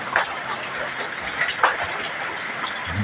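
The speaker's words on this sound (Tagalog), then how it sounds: "yan na ulan" Heavy rain during a typhoon, falling steadily outdoors near a house as a broad, continuous wash of noise with a few brief louder splashes, loud and close.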